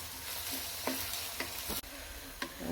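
Curry leaves and other ingredients for a sardine pickle sauté in a pan with a soft, continuous sizzle, punctuated by several close spatula scrapes and clicks at an uneven pace.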